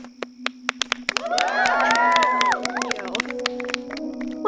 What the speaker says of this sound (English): please give a round of applause to next year's head riding instructor, Miss Stacy.